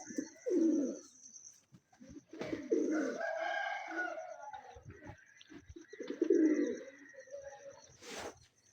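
Migratory pigeons coo in several low, throaty bursts at close range, with a faint steady high tone in the background and brief stretches of quiet between the calls.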